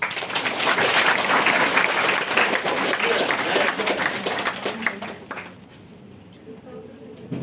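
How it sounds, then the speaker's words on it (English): Students at a career guidance programme for eleventh and twelfth standard classes clapping in a hall, lively applause with audible individual claps that fades out after about five seconds, leaving a quiet room. "We can give some claps."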